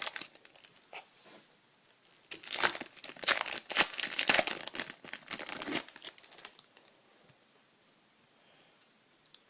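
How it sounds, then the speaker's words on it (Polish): Topps Match Attax Bundesliga 14/15 trading card packets are torn open close up, with crisp crinkling and ripping foil in a dense central burst, framed by quieter sporadic rustles and crackles; no talking. "Otwieramy oczywiście znowu 5 saszetek."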